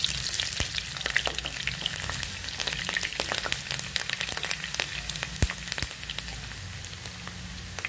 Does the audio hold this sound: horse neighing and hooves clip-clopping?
no